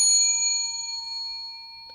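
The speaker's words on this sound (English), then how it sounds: "Who would have thought we had a bell this late in the episode?" A single bell ding rings out clearly with sustained harmonic tones that slowly decay over about two seconds, with no talk around it.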